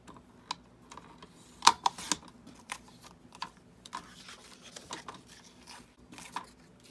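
Scissors cutting leaf eco-print paper into tags and journaling cards, heard as faint, irregular snips and small crisp clicks close by in a quiet room.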